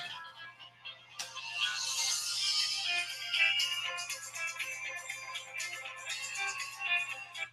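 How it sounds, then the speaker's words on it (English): A mobile phone plays a melodic electronic ringtone, repeating for several seconds at moderate, somewhat muffled volume with no talking over it. "My phone is ringing."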